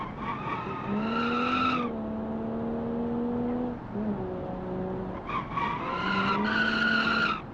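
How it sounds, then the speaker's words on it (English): In the BeamNG driving game, a 1970s Japanese-style sports car's brakes lock up and its tires let out long, loud squealing skids in two bursts, the engine note droning between them, with no talk. "It's the first time I used the brakes, and for some reason I wasn't expecting them to lock up."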